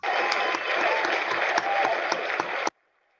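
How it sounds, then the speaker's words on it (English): A seated audience applauds an inductee at an Academy of Law Alumni Fellows ceremony, with steady, dense clapping for under three seconds before it cuts off abruptly into silence. "With a round of applause, please, for Jean."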